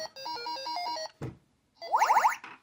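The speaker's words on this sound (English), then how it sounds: "and then it does that cool little startup noise" A short electronic jingle from a Radica Cube World toy starting up: steady beeping tones, a brief thump, then a rising chirpy arpeggio of bright electronic notes, fairly quiet and alone.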